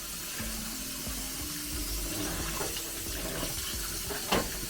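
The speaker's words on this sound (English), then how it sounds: "Hold on, let me turn it on for you. There you go. Sink's working." Kitchen sink tap turned on, water running in a steady broadband hiss that stays loud and even throughout, with a brief splash or knock near the end.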